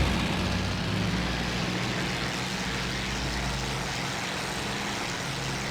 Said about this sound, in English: Oh, he's going for the takeoff, so let's follow him.